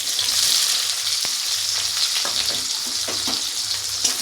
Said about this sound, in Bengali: এবার সেই তেলে দিয়ে দেব 3টা এলাচ, একটা তেজপাতা, দিয়ে দেবো কুচানো পেঁয়াজ।